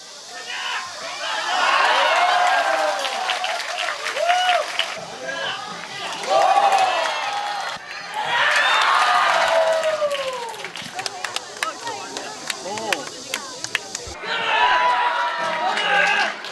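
Spectators at a sport climbing final break into bursts of applause and cheering that swell and fade in several waves, with a narrating voice speaking over the crowd.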